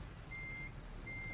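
Intermittent electronic reversing beeps from a truck backing up in American Truck Simulator, hauling a frac tank, two sustained tones with a short gap, over a low steady engine rumble.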